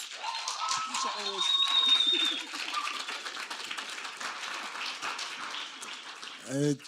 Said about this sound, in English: Let's clap for Senior.